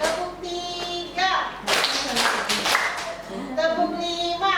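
Group clapping during a counting clap game led in a classroom or training session, bursts of claps from many hands in short clusters alternating with a voice speaking between them.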